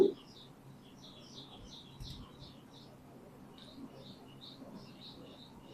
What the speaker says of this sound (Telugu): పిచ్చుకలు అరుస్తున్నాయండి